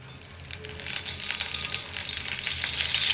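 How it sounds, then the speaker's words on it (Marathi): Garlic frying in a pan for schezwan noodles, a steady bright sizzle that grows slightly louder, heard close with no talking. "तर इथं मी आता लसूण टाकते सगळ्यात अगोदर."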